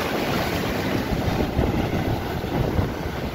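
Stormy Black Sea surf pounds the Bulgarian shore near Sunny Beach and Sveti Vlas, a sustained dense wash of breaking waves with low wind buffeting on the microphone, loud and steady with no voices.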